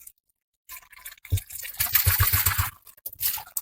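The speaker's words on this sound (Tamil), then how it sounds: "ஃபர்ஸ்ட் வந்து பானையை வெறும் தண்ணியில நல்லா வாஷ் பண்ணிக்கலாம்" Water splashes and sloshes inside an old clay water pot being washed, with bursts of pouring and scrubbing close by, broken by short pauses.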